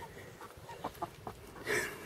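A rooster clucks softly nearby, with a few short, spaced clucks followed by a slightly longer, louder call near the end.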